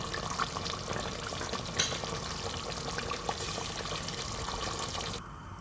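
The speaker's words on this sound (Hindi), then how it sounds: "अब हम इसमें टमाटर डाल के इनको अच्छी तरह गला लेंगे और भून लेंगे।" Tomatoes go into mutton frying in a pan for urad dal gosht, and a steady, close sizzle runs throughout with soft stirring and splashing sounds before it quiets at the end. No one speaks.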